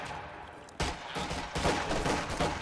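Rear echelon infantry gunfire in Company of Heroes 2, sharp bursts of rifle shots and crackling volleys starting abruptly and repeating, moderately loud in a busy battle.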